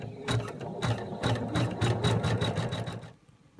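Embroidery machine stitching a fabric piece onto fleece, a fast steady run of mechanical needle strokes with a regular clatter, close and loud. It halts abruptly near the end.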